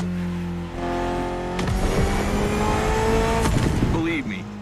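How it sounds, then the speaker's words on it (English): A Mitsubishi inline four-cylinder car engine of about 280 horsepower revs hard and climbs in pitch with gear-like steps, loud and sustained, then drops off near the end. "Mitsubishi gave us a nice inline four-cylinder with already 280 horsepower."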